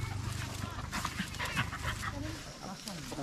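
Dogs pant and whimper nearby amid rustling and a low background hum, with a voice speaking briefly.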